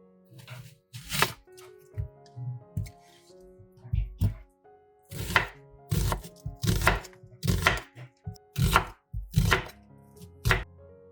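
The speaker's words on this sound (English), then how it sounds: "Cut an onion." A knife chops an onion on a cutting board in a kitchen, a run of loud, close, evenly spaced thuds with short pauses between strokes.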